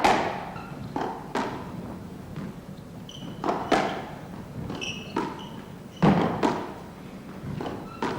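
Squash ball struck by rackets and smacking off the court walls in a 1978 men's British Open final, a series of sharp, resonant thuds and cracks spaced irregularly through the rally, with squeaks of shoes between shots.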